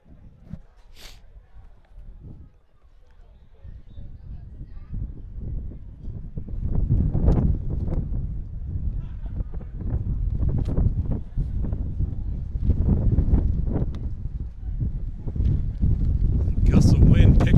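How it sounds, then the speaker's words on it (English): Wind gusts buffet a microphone at an outdoor quidditch tournament in the Texas Hill Country, a rough rumbling roar that swells after a few seconds and stays loud, with voices underneath. "Gust of wind picking up now"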